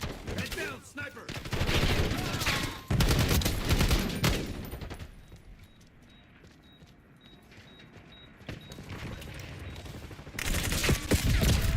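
Black Ops 6 video game gunfire with sniper fire, dense bursts of loud shots opening and closing the stretch, a quieter gap with faint game tones between them.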